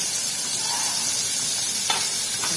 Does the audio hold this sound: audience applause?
no